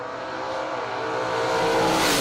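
Drag racing cars, including a Chevelle, launch down the strip at a fall brawl event, a loud, rising engine roar that builds steadily over about two seconds with no talk.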